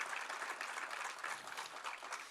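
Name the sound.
congregation applauding in church worship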